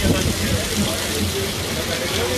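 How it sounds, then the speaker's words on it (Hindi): Heavy rain drums on the roof of a cricket club venue during a T10 league match in Dubai, a dense and loud continuous wash of rain on the roof with no gaps. "क्लब की छत जो है अभी आपको बता रही है कि कितनी सख्त बारिश लगी हुई है."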